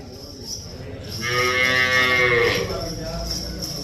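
A water buffalo on a farm lets out one long, low moo that swells and fades over about a second and a half, close by, with steady outdoor background noise around it.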